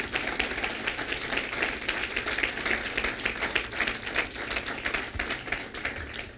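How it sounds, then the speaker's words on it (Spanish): A church congregation claps together in steady, rhythmic applause that holds at an even moderate level throughout, with no voices over it. "Dele un aplauso al Rey bendito."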